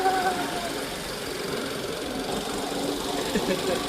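A motorcycle engine runs steadily on a newly opened hill road, its droning, slightly rattling note continuous and close.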